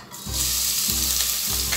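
Onion hits hot oil in a small pot, bursting into a loud, steady sizzle that holds for well over a second, with low stirring thumps recurring at a slow, even rhythm beneath the frying hiss.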